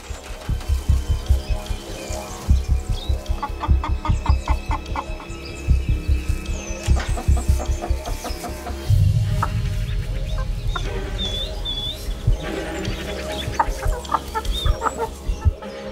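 Chickens cluck steadily and rhythmically at close range in the Australian wild, with some higher calls scattered through, loud and continuous for the whole stretch.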